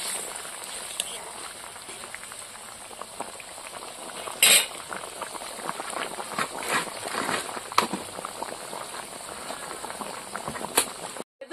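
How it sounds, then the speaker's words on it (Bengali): A pot of fish curry bubbles and boils steadily, with soft gurgling and a few sharper clinks and rattles from a utensil against the pot. "মাছের ঝোল ঘপ ঘপ করে ফুটছে।"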